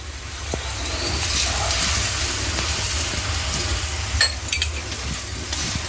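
Khova bakshalu, a sweet stuffed flatbread, deep fries in oil. A constant close sizzle and bubbling runs throughout, with a few light clinks and stirring taps near the end.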